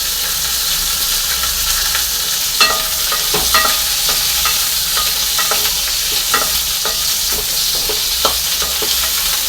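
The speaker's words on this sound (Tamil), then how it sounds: "நல்லா வதக்கணும் வெண்டைக்காவை வெண்டைக்காவை வதக்கிட்டு பார்த்துக்குவோம்ப்பா" Okra (ladies finger) sautéing in sesame oil in a pan, a steady loud sizzle and hiss with repeated stirring scrapes at irregular intervals, no voices.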